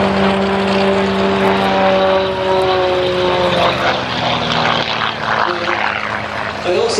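Loud, steady propeller drone of a Gamebird GB1 aerobatic aircraft in flight at Sywell, with the engine pitch gradually shifting as it manoeuvres and a faint voice underneath.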